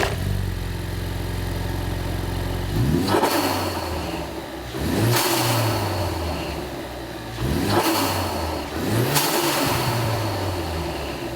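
A 2015-2017 Ford Mustang EcoBoost fitted with a Roush cold air intake sits at a steady idle, then is revved hard several times, each rise loud and close with a whoosh of intake air, dropping back between pulls.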